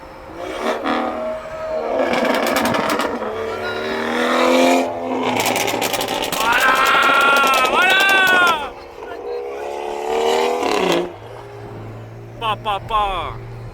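A hypercar accelerating through the streets of Monaco, its engine note climbing in several loud, rising surges with brief pauses between, while people talk excitedly over the noise throughout.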